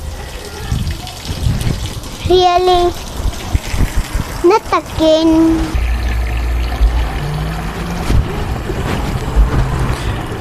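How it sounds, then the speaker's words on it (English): Water pours and gushes into a container holding agate stones, a steady rushing flow heard close by while people talk over it. "We'll put in their water."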